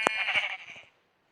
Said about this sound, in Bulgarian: Овцата е за мен.